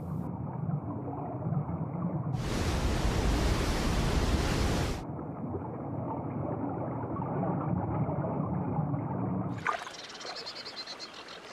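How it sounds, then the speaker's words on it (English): A river flows with a continuous rushing, hissing wash of water, changing abruptly between calmer and louder stretches. "The river is flowing more gently now."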